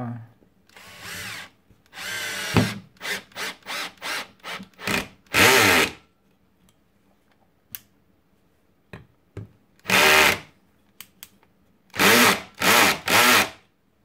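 A Bosch GSR 12V-15 FC cordless drill driver drives screws into wood in a series of short, sharp whirring bursts separated by quiet pauses, loud and close.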